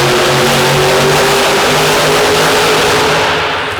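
Monster truck Toxic roars in a sustained near full-throttle rev while spinning in the arena at Monsters on the Mountain in Corbin, Kentucky, a loud steady engine drone that starts to fade at the end.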